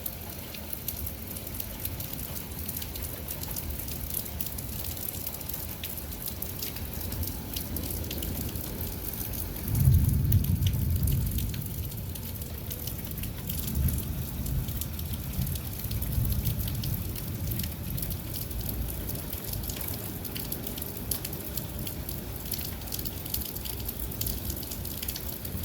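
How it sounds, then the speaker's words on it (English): Heavy rain pours steadily on surfaces outdoors, and a low roll of thunder swells about midway before fading back into the constant downpour. "It's raining quite hard out here."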